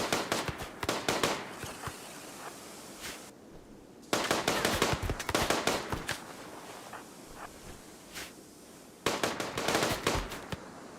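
Turret gunfire in the Rimworld video game: loud, rapid bursts of crackling shots in three long volleys with short pauses between them, close and heard without talk.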